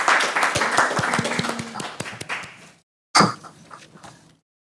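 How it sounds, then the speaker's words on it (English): A small conference audience claps for a paper presentation on customs and the digital economy, with sparse, distinct individual claps close by that fade out, then a brief second burst of claps after a short pause. "I'll give applause to Julia for a good presentation."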